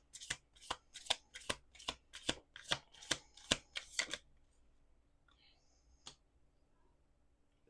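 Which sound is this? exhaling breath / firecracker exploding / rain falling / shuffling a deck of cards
shuffling a deck of cards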